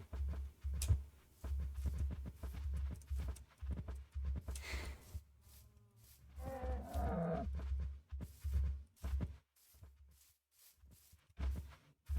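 Minecraft cows mooing in a video game, several low drawn-out moos of different pitch over scattered footsteps and shuffling, fairly close and clear with no talking.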